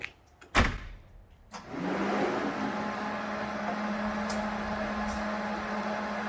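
A 6.7 Cummins diesel engine, heard from outside the vehicle, clicks and cranks briefly, then catches and settles into a steady, loud, rumbling idle that continues to the end.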